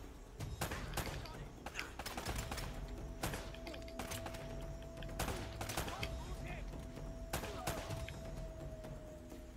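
Gunfire in the video game Uncharted: rapid cracks and bursts of shots repeating through the whole stretch, dense and punchy, with a voice talking now and then over the action.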